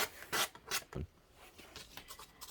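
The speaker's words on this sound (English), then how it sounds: "all I'm doing now is just getting this little sander block here and sanding down the edges" Short scraping rubs of a small sanding block on wood edges, a few quick strokes in an uneven rhythm, close and fairly quiet.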